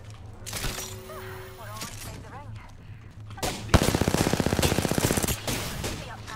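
Gunfire in a video game: a single sharp crack, then a loud sustained automatic burst of rapid shots, with people talking over the game sounds earlier.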